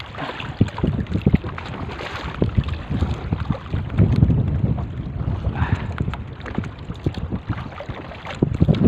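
Strong wind buffets the microphone in continuous low rumbling gusts while fishing from a boat, with water and boat noise underneath and no talking.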